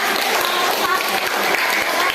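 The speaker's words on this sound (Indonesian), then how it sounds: "kita berikan tepuk tangan" Schoolchildren in an Indonesian classroom give a round of applause after a group presentation, continuous brisk clapping filling the room, with voices mixed in.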